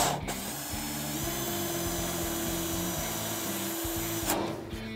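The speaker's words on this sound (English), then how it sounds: "I'm using an 1/8 inch drill" An electric drill with a 1/8 inch bit bores a shallow pilot hole in a car firewall in a garage shop, a steady close whine that runs for several seconds with no talking.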